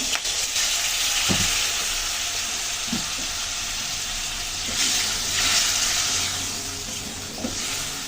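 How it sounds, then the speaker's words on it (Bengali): Spice paste frying in a pan with a little water added, a continuous loud hiss and sizzle with occasional soft stirring knocks, no talk. "হালকা একটু জল দিই ভালো করে মশলাটা কষিয়ে নিব"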